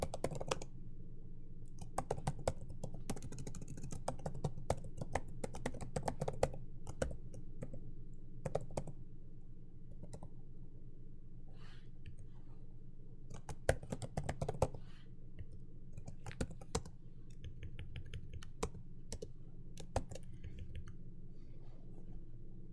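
Someone types code on a computer keyboard, with rapid irregular clicks in bursts and short pauses, close and fairly quiet.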